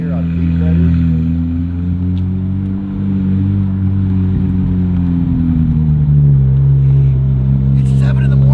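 Ferrari 458 fitted with an IPE gold titanium F1 exhaust, its engine running loud and steady throughout with a deep rumble that swells slightly near the end, with people talking under it.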